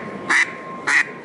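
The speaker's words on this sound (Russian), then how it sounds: "это очень красивый, эффектно выглядящий манок из дорогих материалов" A handheld duck call made of expensive materials, shown at a hunting and fishing exhibition, gives two short, loud, nasal quacks with a clear pause between them, close and alone.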